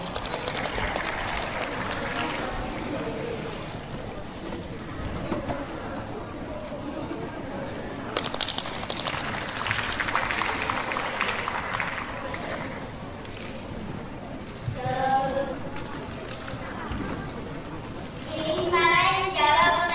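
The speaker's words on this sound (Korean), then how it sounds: "여러분 박수 부탁드립니다." Applause from an audience at a Korean-language elementary-school speech contest, a steady broadband patter lasting throughout, swelling near the end, with a voice and some speech faintly mixed in.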